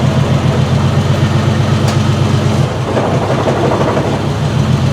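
A 1968 Triumph TR250 engine runs in gear with the car up on jack stands, a loud steady low throbbing rumble with a brief dip in tone partway through.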